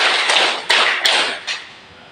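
Students in a classroom play a patterned clapping game, four quick, evenly spaced group claps cracking out over a busy noisy room, near and loud, no voices heard.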